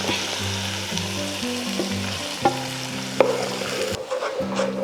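Tomato paste made from four tomatoes sizzling and frying in a pan for a curry, a steady close hiss with light stirring and a couple of sharp clinks, while a tonal background melody plays underneath.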